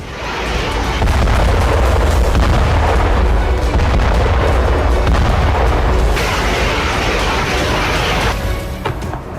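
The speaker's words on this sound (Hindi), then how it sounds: "यूक्रेनी फोर्स ने भीषण बमबारी शुरू कर दी।" Artillery shelling in the Russia-Ukraine war rumbles as a loud, continuous bombardment of deep, overlapping booms and blasts that rolls on without a break.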